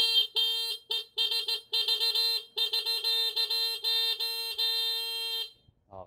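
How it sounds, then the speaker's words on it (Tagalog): Close, loud car horn blasts in rapid irregular bursts, mostly short toots with a few longer ones, a bright, buzzy tone that cuts off near the end. "Tapos, busina."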